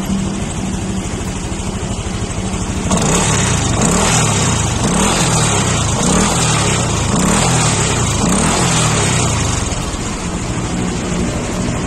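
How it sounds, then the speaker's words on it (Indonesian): A modified Honda Beat Deluxe scooter engine with a nonstandard silencer revs repeatedly, loud and close, its pitch climbing and falling in a steady series of throttle blips over a continuous idle. "Nah ini gue coba gue gas ya."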